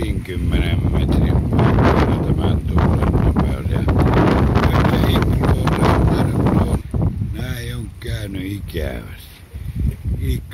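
Strong storm wind, gusting at around twenty metres per second, roars and buffets a microphone outdoors beside a summer café, loud and continuous with a few brief dips near the end.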